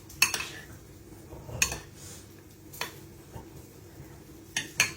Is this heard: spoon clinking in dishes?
yes